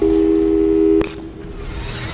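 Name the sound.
telephone call tone in video game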